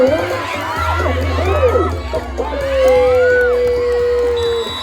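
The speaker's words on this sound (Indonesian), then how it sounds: "tepuk tangan sangat meriah bagi tim Pancasila" A crowd cheering a goal at an outdoor gobak sodor match, with excited shouts and whoops rising and falling, overlapping children's voices, and people talking throughout.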